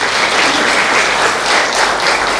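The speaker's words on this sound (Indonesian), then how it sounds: "Berikan sorak-sorai buat Tuhan." A church congregation at a revival service cheers and applauds together, a loud, dense, continuous roar of clapping and shouting that fills the room without a break.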